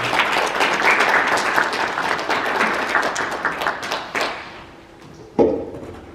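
A church assembly audience applauds a welcomed elder in dense, steady clapping that thins and fades out after about four seconds, ending with a single sharp thump.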